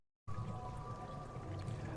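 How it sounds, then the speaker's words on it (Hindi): Spring water running out of a stone at Patthalchua in a forest area, heard as a steady, close, continuous rushing trickle that begins abruptly after a brief silence, with no talking. "किस तरह से वो पानी जो है सो बाहर आता है उस पत्थर से"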